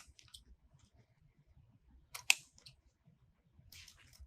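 Scissors trim ribbon tails on a bow for a grapevine Christmas wreath, giving a couple of quiet, crisp snips close by against near silence.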